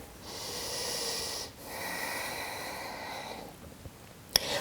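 Steady breathing held in a yoga plank pose, two long breaths close and clear with a short pause between, then a faint tap near the end.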